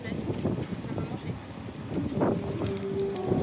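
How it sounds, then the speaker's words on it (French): Gusty wind buffets the microphone outdoors along the Normandy coast near Pointe du Hoc and Omaha Beach, a steady low roar that swells around the middle, while people talk over it. "Calme-toi le vent s'il te plaît."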